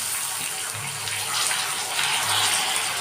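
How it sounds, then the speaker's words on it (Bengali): Half a cup of water is poured into hot caramel in a pan, a steady hiss and splash that runs for a few seconds at close range. "এখন আমি এর মধ্যে জল অ্যাড করে দেবো যতটুকু প্রয়োজন এই হাফ কাপ মতো জল অ্যাড করবো"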